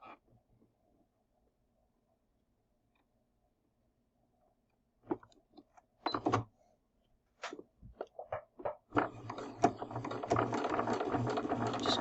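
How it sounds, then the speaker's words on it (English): A sewing machine runs a quarter-inch seam through pinned fabric for a half square triangle quilt block: quiet at first, then a few short whirring bursts, then a steady close stitching whir. "So now we're going to run a 1/4 inch right down here"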